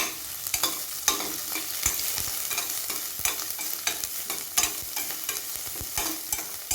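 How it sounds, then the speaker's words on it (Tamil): Onion sautés in a pan for jackfruit seed kurma, a loud, busy sizzle broken by repeated sharp spatula scrapes and clatters against the pan, with no voices. "இப்போ கட் பண்ணி வச்சுருக்க ஒரு பெரிய வெங்காயத்தை இது கூட சேர்த்துக்கிறேன்."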